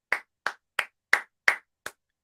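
Six sharp hand claps in an even, unhurried rhythm, close and crisp with clean silence between each, ending after about two seconds.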